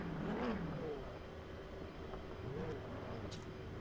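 LMP2 race cars forming up for a rolling start in Le Mans Ultimate, engines droning at a moderate distance with rising and falling revs, a steady mechanical whine beneath.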